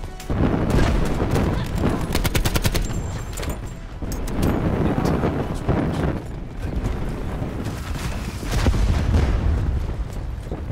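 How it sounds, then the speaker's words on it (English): Cluster grenade going off in a Call of Duty Black Ops 4 multiplayer match: a chain of loud, booming blasts and crackling bursts mixed with gunfire, dense and continuous over about ten seconds, with faint game voices underneath. "Cluster grenade going out."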